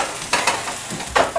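Chicken quesadilla fries in a skillet with a little oil, a close, short burst of sizzling with a few sharp spatula scrapes and crackles.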